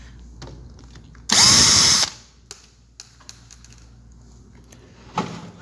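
A power screwdriver whirs in one loud, close burst of under a second, taking screws out of a window air conditioner. Faint clicks and handling sounds follow.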